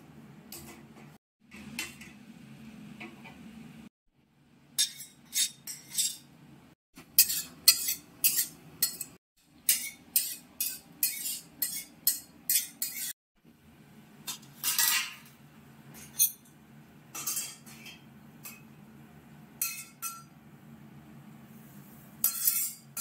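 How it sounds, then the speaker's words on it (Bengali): Poppy seeds are stirred in a dry wok with a metal spoon, giving quick, sharp scraping clinks in irregular bursts over a low steady hum, with no talking. "ভেজে নেওয়া হবে হচ্ছে তার মধ্যে একটু পোস্তটা, শুকনো কড়াই একটু নাড়িয়ে।"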